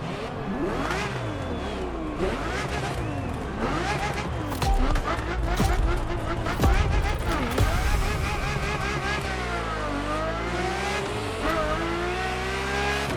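Ferrari F50 engine in The Crew Motorfest racing game, loud and close, revving hard through repeated gear shifts with rising and falling pitch, tire squeal and a few sharp bursts, no talk.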